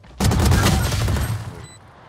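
A sustained burst of automatic fire in a Valorant match rattles loudly for over a second, then cuts off, leaving a short faint tail and a small electronic tone.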